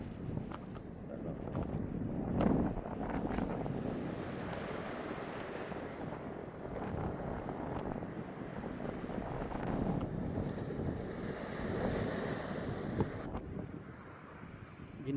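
Wind buffets the microphone in a steady rush with the broad wash of Atlantic Ocean surf behind it on a cold, windy white-sand beach, no clear voices.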